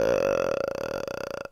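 Exhaled vocal fry from a human voice, a low creaky rattling tone that starts smooth and breaks into a rapid stream of separate clicks as it fades, close and alone for about a second and a half.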